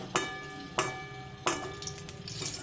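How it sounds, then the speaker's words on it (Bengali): A gram flour vegetable chop fries in hot oil with a steady sizzle, broken by three sharp metallic clinks of a utensil against the pan at roughly even intervals, close and moderately loud. "তার আগে আমি এই চপটা ভেজে নিই"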